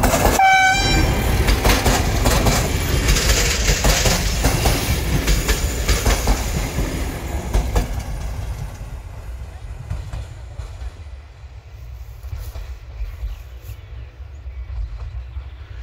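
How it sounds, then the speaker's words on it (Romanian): A train passes through the Buzău mountains, its loud rumble and clatter fading steadily over time, with a brief horn blast near the start. "Ia uitați, oameni buni, că am prins și trenul."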